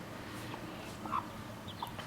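A hen clucks near her chicks outdoors, with soft, scattered clucks and a few brief chirps over a steady, fairly quiet background.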